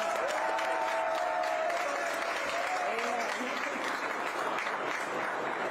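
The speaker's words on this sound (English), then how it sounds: "please clap" Audience applause at a live interview event in Naples, a thick continuous clapping that holds steady throughout, with a voice speaking over the first few seconds.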